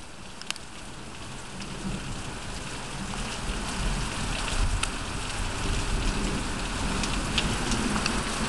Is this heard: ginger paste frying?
no